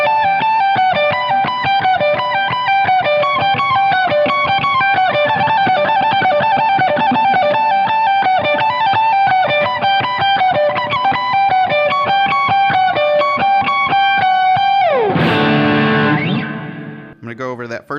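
Next section of the electric guitar part from a song, with quick repeating notes on the high strings under distortion, echo and reverb, played loud and close, ending in a descending slide and brief trailing notes.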